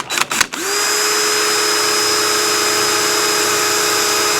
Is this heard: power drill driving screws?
yes